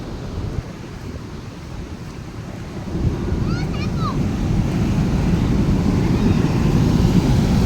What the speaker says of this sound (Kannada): ನೀರು ಬೀಳ್ತಕ್ಕಂಥ ಸೌಂಡು ಕೂಡ ನೀವು ಕೇಳ್ತಾ ಇದ್ದೀರಾ